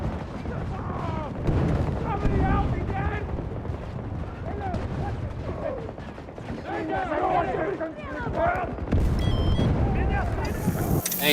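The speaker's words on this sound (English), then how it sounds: "I got hit by one of them grenades." Grenade blasts and gunfire in a video game battle in Rush mode: dense, rumbling booms and cracks pile up through the whole stretch, with a voice talking over the chaos.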